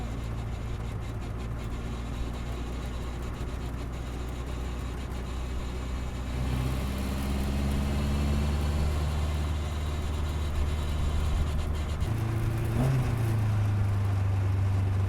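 A 1957 Lotus 7 racing car engine drones steadily at low pitch, heard from inside the moving car, then rises in revs and changes tone as it accelerates on a bumpy road.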